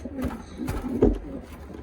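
Pigeons in a breeder loft coo softly and close by, with a few low throaty calls in a short stretch.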